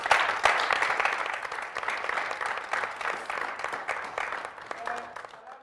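An audience at a Valentine's special show applauds as a comedian is welcomed, the clapping steady and moderate before fading, with a few tonal sounds near the end.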